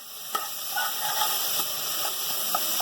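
Sizzling and stirring in a pan as ingredients for channa chaat are lightly sautéed, a steady close hiss broken by scattered spoon scrapes and clicks, with no talking.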